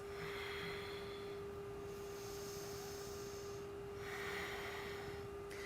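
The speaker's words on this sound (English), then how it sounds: "Take 2 deep breaths." Slow, deep breaths during a yoga flow, airy inhales and exhales swelling and fading in long waves, soft and close over a steady background tone.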